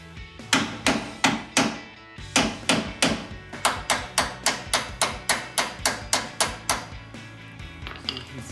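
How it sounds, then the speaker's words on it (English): A flathead screwdriver hammered against a bolt to drive it out while installing front upper control arms on a Toyota Tacoma with a 2 to 4-inch lift, a sharp metallic series of about twenty close strikes in a steady rhythm. "now I'm just going to take a flathead screwdriver and keep hitting this bolt out"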